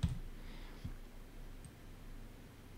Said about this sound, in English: I'm gonna click on this.